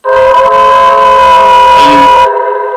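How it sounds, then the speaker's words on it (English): A sustained, steady model train whistle from a Paragon 2 Hudson locomotive, with layered chime tones, blows loud and close for about two seconds, then cuts off abruptly. "So what you do is you hold down the whistle button"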